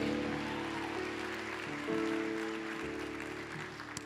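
A church congregation claps during a sermon, the applause faint and steady over sustained musical tones.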